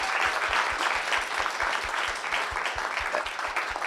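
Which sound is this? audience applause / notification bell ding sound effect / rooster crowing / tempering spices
audience applause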